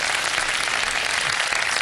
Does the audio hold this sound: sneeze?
no